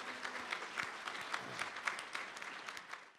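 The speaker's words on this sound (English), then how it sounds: "Please join me in a round of applause to thank these incredible volunteers." An audience at an awards luncheon claps for volunteers, a dense steady wash of applause from a roomful of people that holds evenly for a few seconds.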